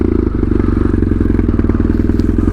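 A 2007 BMW F800ST parallel-twin motorcycle engine idles up close with a steady, loud, low-pitched chugging pulse, an even agricultural thrum with light mechanical clatter and no talking.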